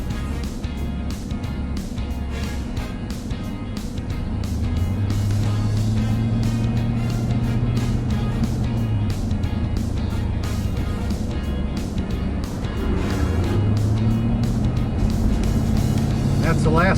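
Highway traffic rolls past with a steady road roar and tire noise, several vehicles swelling and fading as they pass nearby, while someone talks over the continuous drone.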